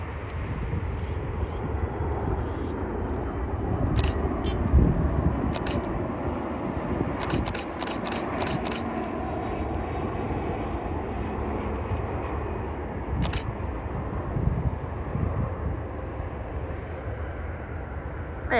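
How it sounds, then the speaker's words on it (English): Gulfstream G600 business jet coming in to land at San Jose airport, a steady broadband roar of jet noise holding loud throughout, with brief sharp clicks scattered over it. "here she comes, Thrive's G600 coming in hot right there."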